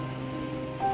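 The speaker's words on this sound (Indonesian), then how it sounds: "Tapi ombak ini lagi kurang bagus ya" Steady wash of sea waves and surf, a continuous broadband roar with a slight swell near the end, fairly close and unbroken.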